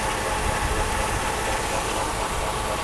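A Mercedes W126 300SEL engine idles steadily after repair work on its fuel distributor, giving a constant, even mechanical hum and rattle at close range with no speech.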